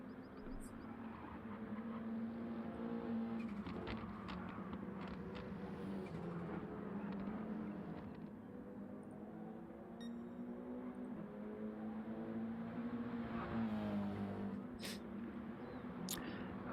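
TT Cup race cars from a video game lapping Suzuka circuit, engines droning steadily throughout with shifting pitch as cars pass and rev, a continuous loud motor roar with no talk.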